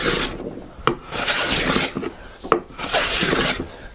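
A hand plane shaving across lumber while the board is dimensioned, giving repeated rasping strokes, each a long rough hiss broken by brief clacks as the plane is drawn back, close and fairly loud.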